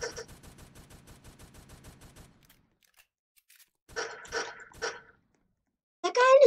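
Video game gunfire: a rapid burst of evenly spaced shots for about two seconds, then silence, followed by a few short sharp bursts and a closing louder flurry.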